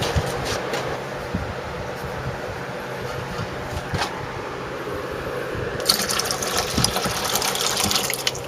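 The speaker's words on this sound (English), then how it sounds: "I got to get a little more water." Water running from a tap into a container during a gold refining job on computer scrap, a steady broadband rush that grows louder and brighter partway through, close and alone.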